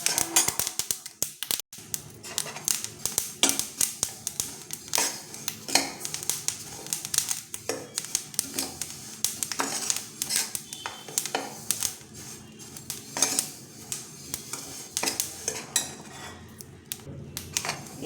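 Lentils for idli podi dry-roasting in a pan on a slow flame, with a dense, continuous crackle of sharp popping and rattling ticks, steady and close, for the whole stretch with no talking.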